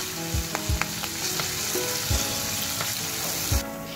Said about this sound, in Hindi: कड़ी पत्ते शामिल किए ऑयल में मैंने, और अदरक लहसुन का पेस्ट मैं शामिल कर रही हूँ। हल्का सा इसको मैं सौते करूँगी।